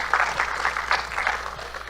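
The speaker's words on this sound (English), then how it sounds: "let's give them a round of applause" A live audience claps in a short, steady burst of applause at moderate volume, with no talking over it.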